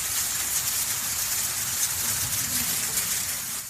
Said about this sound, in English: That's the sound of ash rain soon after the Hungatonga Hungaha'apai volcano erupted on January 15th.